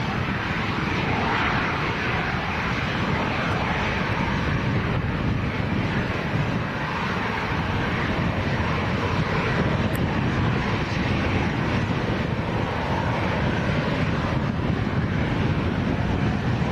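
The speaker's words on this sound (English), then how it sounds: "So this is a Ryanair to Seville." Ryanair airliner at Lanzarote Airport in a strong crosswind, a steady broad jet roar that holds at an even loudness throughout, mixed with heavy wind buffeting on the microphone and no talk.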